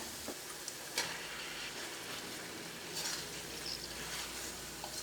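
Chicken pieces fry in hot oil for palak chicken, a soft, steady sizzle with light ticks and occasional utensil scrapes, faint and without voices.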